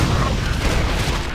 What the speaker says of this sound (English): How about a triple explosion,